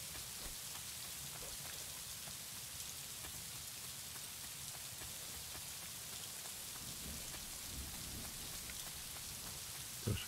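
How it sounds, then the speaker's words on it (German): Steady rain pours down in the video game Boundless, a dense, even hiss of drops spattering on surfaces that runs unbroken for the whole stretch, moderately quiet and without any voices. "Jetzt regnet das, na toll."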